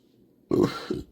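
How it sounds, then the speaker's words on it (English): A single loud, close burp from a person, rising abruptly out of near silence and trailing off with a second shorter gulping pulse, with no one talking over it. "excuse me, confirmation burp"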